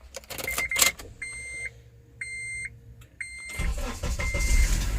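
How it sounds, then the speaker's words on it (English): A 2004 Honda Element 2.4L starting with a newly cut key: a few electronic chimes and beeps over a low hum, then the engine turns over and settles into a steady rumble. "So now this should start the car."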